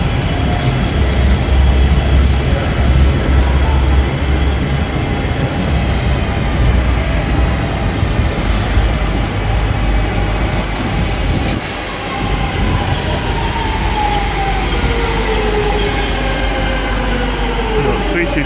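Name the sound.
train at Preston station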